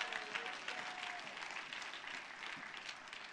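A church congregation claps together in a dense, sustained round of applause that stays fairly even in volume before thinning slightly near the end, heard from within the room at moderate loudness.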